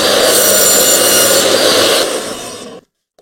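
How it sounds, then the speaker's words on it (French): A saw blade cuts wooden veneered furniture panels for van kitchen drawers, giving a loud, steady rasping whine that fades and stops abruptly near the end, followed by a faint click. "Je pense qu'il faudrait une autre lame pour couper les plaquages."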